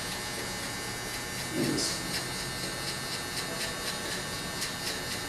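An electric hair clipper buzzes steadily while cutting hair during a haircut, a constant close drone with a brief voice speaking over it.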